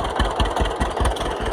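A tractor engine idles in an alfalfa hay field after second cutting, a loud, close, steady rhythmic chugging with regular low pulses and no voices.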